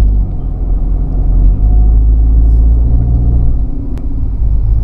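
Steady low engine rumble and road noise fill a Mitsubishi Pajero driving through heavy traffic, a continuous loud drone with a brief faint click near the end.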